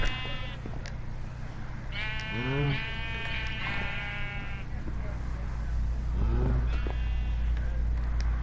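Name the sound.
sheep bleating in the video game Minecraft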